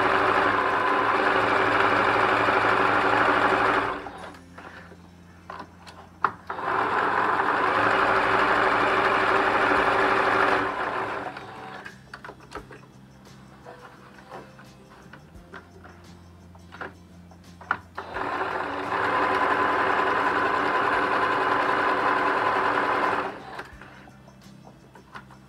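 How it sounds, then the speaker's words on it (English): Sewing machine stitching fabric for Easter decorations, running in three steady buzzing bursts of several seconds each, separated by quieter pauses with small clicks and handling noises. "Put your needle in, go a few stitches,"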